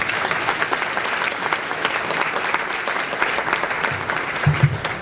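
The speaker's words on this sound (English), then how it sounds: "So please let's give them an applause." An audience at a Regional Hispanic Chamber of Commerce event claps continuously, a dense and even patter of many hands that stays steady throughout.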